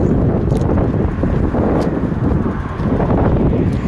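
Strong wind roars and buffets the microphone outdoors during a bicycle ride in a loud, steady rumble with brief gusty swells, and no voices.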